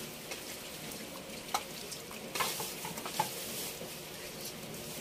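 Marinated meat for estofado cooking in a pan on the stove, giving a steady, soft sizzle with a few faint clinks and stirring sounds and no voices.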